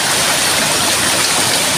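Rising river water rushes under a bridge, a steady, loud, broadband roar of fast-flowing water with no pauses or voices.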